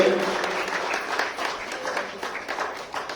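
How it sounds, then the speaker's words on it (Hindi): A crowd at a women's gathering in Uchana claps steadily for a few seconds, loud and close. "जोरदार तालियों से स्वागत करते हुए"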